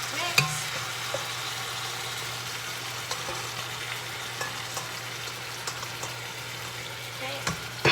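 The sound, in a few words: chicken frying in browned sugar and oil for pelau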